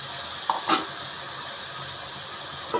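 Long beans dropped into a pan of cooking potatoes, a soft steady sizzle with a brief clatter and stir near the start, then quiet frying hiss continuing on its own.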